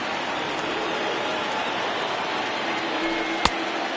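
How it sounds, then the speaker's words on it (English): Heavy rain pouring down at a baseball game, a dense, even wash of hiss with no pauses, broken only by one sharp click near the end; no voices are heard. "This has got to be the hardest rain we've seen all afternoon"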